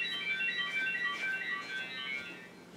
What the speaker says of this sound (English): that was my alarm going off